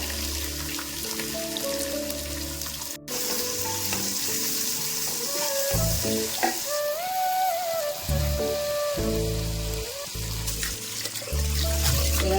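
Chopped onion and broken cashews fry in hot oil for vegetable biryani, a loud continuous sizzle with occasional stirring scrapes, while a melodic tune plays faintly underneath.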